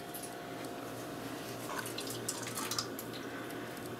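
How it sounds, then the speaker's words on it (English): Boiled red cabbage liquid being strained off, with quiet trickling and dripping water sounds, faint and close, a few light splashes toward the middle, no speech. "so we already boiled the cabbage, so we're gonna try to get only the liquid out"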